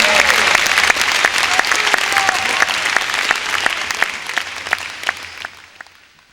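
Church congregation applause, a dense wash of clapping with individual sharp claps standing out, gradually thinning and fading toward the end.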